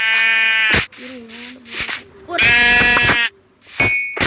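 Sheep bleating in Minecraft Pocket Edition, several bright, tonal game bleats and clangs in quick bursts, with a person talking between them.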